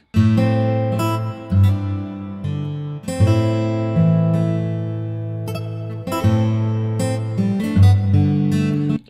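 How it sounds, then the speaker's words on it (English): Clean, synthetic-sounding guitar from a VST plugin plays sustained chords and plucked notes in phrases, with swells and pauses between them; no talking. "this guitar sound that sounds like this"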